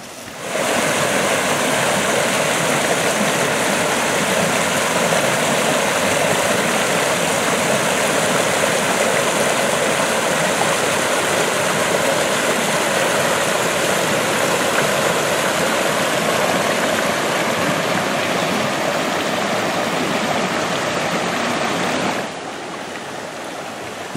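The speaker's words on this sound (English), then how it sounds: "Nice little stream." A small stream flows steadily through a forest on a mountain hike, a continuous close rushing and babbling wash of water that holds the same level throughout and softens slightly near the end.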